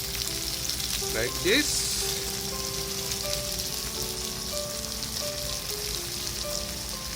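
Skewered yakitori chicken and Japanese long leek sauteing in a hot pan, a continuous close sizzle with soft spattering, while a voice speaks briefly near the start.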